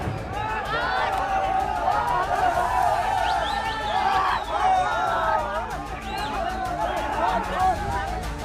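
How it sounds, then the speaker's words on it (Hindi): Large crowd of rioters in the streets of Kathmandu, Nepal, a dense roar of shouting voices and chatter that stays loud and steady throughout, with sharper cries rising above the din. "हिंदू राष्ट्र के लिए हजारों की भीड़ ने जमकर तोड़फोड़ की।"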